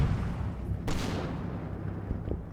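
Distant rifle fire echoing from inside the town of Elsdorf in the Combat Mission Downfall war game, a sharp crack standing out over a steady low rumble of battle noise.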